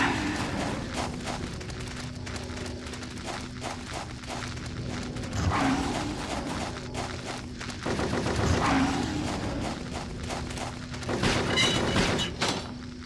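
Rapid video game gunfire keeps rattling on for the whole stretch, with bursts swelling louder at a few points and a steady droning tone running underneath.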